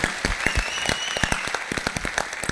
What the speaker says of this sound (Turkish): Aşlağı bir alkış bereylik ya.